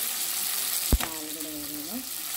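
Curry leaves and fresh coriander drop into hot oil in a pan, giving a sharp burst of sizzle that settles into a steady frying hiss over about two seconds.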